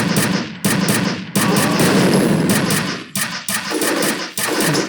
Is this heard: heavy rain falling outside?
no